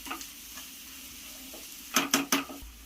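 Cooled cooked rice goes into a hot pan with boiled egg and sizzles softly, then three quick scraping stirs of a spatula clatter against the pan near the end, close with no voices.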